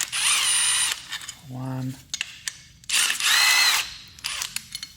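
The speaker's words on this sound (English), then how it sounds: "let's use again my little Milwaukee impact wrench, 10mm" Milwaukee impact wrench zipping 10mm bolts off a Toyota 1GR-FE 4.0 liter V6 engine during disassembly, two loud hammering bursts separated by a brief pause, with a man counting aloud between them.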